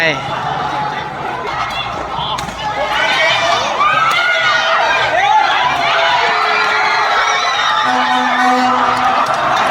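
Spectators at a university kato (sepak takraw) match between faculties chatter and shout, then swell into louder cheering and excited whoops, with voices talking throughout the steady crowd noise.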